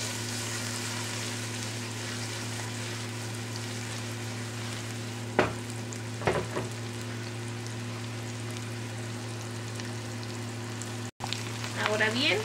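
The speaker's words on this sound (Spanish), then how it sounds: "aquí ponemos a freír la cebolla con el ajo" Chopped onion and garlic fry in a pan with a steady, even sizzle like light rain, interrupted by a couple of sharp knocks and a clatter of a utensil near the end, against a constant low electrical hum.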